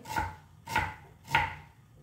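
A knife chops an onion finely, three distinct, evenly spaced thuds on a board, close and fairly quiet, with nothing else heard.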